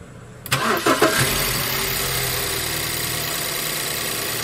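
A 2008 BMW E90 cold-starts with a sharp crank at half a second, catching into a loud, steady idle that carries on close by without any talk; the engine was running with a faulty fuel injector and misfire.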